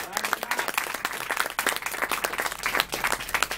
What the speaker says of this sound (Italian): che farei un grande applauso